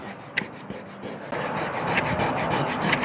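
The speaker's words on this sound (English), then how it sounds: "use a squeegee to squeegee it out." Squeegee pressed and rubbed over a vinyl American flag decal on a truck, giving steady close scraping strokes that grow louder and denser partway through, with a few sharp ticks and no talking.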